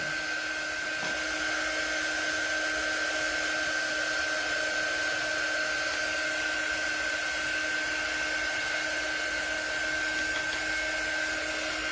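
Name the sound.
hair dryer drying a bee craft so it won't smudge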